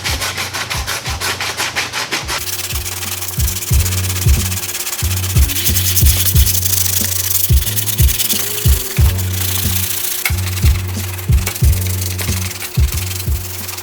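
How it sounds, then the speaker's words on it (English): Steady rhythmic hand sanding of a car bumper with 80 grit sandpaper, close and loud, the rasping strokes repeating evenly back and forth throughout. "we're gonna go ahead and sand this down before we apply Bondo"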